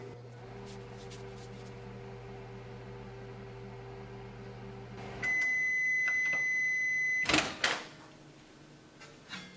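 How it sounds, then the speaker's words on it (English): A microwave oven hums steadily while heating pizza dough ingredients for 20 seconds, then a louder whirring starts, followed by a few sharp electronic beeps and a clunk near the end. "put it in the microwave, and we're going to give 20 seconds"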